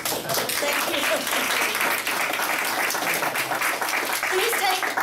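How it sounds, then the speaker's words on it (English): Audience applause at a teaching lunch-and-learn gathering, a full, steady burst of many hands clapping close together at constant strength, with a few voices faintly audible underneath. "I'd like us all to give John a round of applause for the magnificent job she's done."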